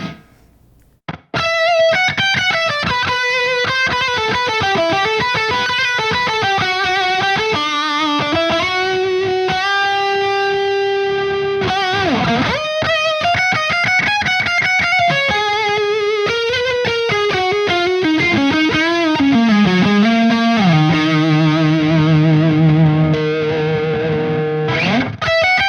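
Electric guitar through a Catalan Bread Naga Viper treble booster into a Synergy Morgan AC amp module, playing loud, sustained distorted lead lines with bends and held notes, continuous and bright with no talking.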